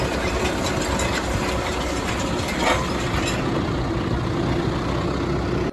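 A John Deere tractor engine runs steadily on a dry, dusty farm, a loud, constant diesel rumble close by with a slight knocking texture and no talking.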